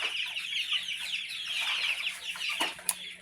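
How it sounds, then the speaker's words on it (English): Chicks peep constantly in a shrill chorus in a garage brooder, with a cockerel's louder call and a sharp squawk near the end, close by. "I think I have a cockerel in here."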